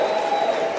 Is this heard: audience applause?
yes